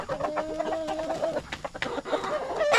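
Rhode Island Red hens cluck and murmur nearby, one drawn-out call rising above a steady stream of short clucks from the flock.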